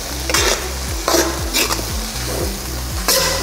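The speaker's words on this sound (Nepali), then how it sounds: "अब यो सिमी राखेर नि अब यसलाई पनि हल्का मिडियम आँचमा" A spoon stirs simi (beans) frying in a pan over medium heat. Steady sizzling runs underneath, and scraping strokes against the pan come in a quick, regular rhythm, close and clear.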